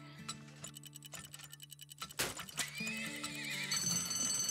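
Horses in the video game Turmoil whinny and clip-clop amid ticking game effects and layered synthetic tones, with a loud neigh near the middle and music building toward the end.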